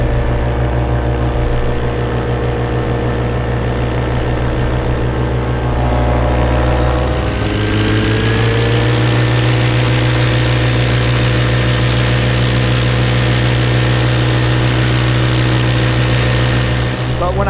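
A paramotor's Atom 80 engine on a Pap Tinox V2 frame runs loud and steady, dropping to a lower idle and then holding a constant throttle, close up.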